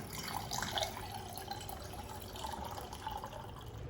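Water dispensed from a water cooler into a metal cup, a steady close stream with a faint ringing tone rising as the cup fills, no voices.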